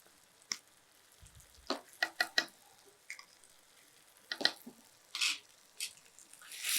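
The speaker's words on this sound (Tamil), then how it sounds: "இதை அப்படியே நல்லா மிக்ஸ் பண்ணி விட்டுருங்க" Ground paste being stirred into a simmering Kollimalai mudavattukal soup, giving soft wet squishes and scraping stirs in scattered bursts with quiet pauses between, close and fairly faint.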